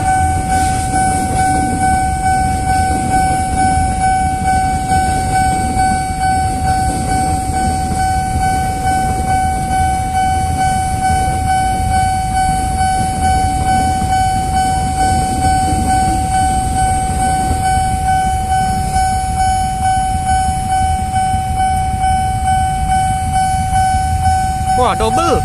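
A Bogor-line commuter train rumbles loud and close past the Mangga Dua Raya level crossing for the whole stretch, with a steady crossing-signal tone ringing and a horn sounding.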